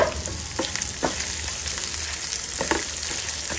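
Two small onions frying in a pan for a vegetarian Maratha-style dish, a steady close sizzle with occasional stirring scrapes and clinks, alone without voices.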